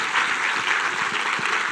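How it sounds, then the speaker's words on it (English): Steady applause from the audience at a UK school F1 competition awards ceremony, dense clapping from a large crowd with no break for the whole short stretch. "give yourselves a massive round of applause"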